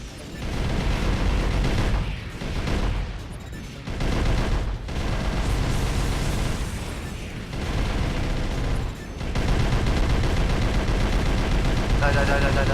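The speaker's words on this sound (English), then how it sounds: "Let's chain gun you apart here." Chain gun fire from a mech in Armored Core: For Answer, a sustained, dense mechanical roar running almost the whole time, breaking only for brief pauses, loud and close, with someone talking over it.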